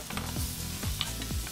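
Food sizzles as it fries in oil in a pan, a faint, steady crackle with a few soft scraping or stirring touches, and no talking.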